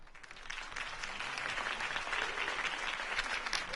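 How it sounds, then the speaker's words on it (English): Crowd applause in the video game Batman: The Telltale Series, a steady, moderately distant wash of many hands clapping that holds evenly throughout. "If only Mr. Wayne, my campaign's largest backer, could have heard that applause"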